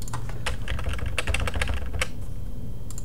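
A computer keyboard's arrow keys are tapped in a quick run of close, light clicks over a steady background hum, with no talk.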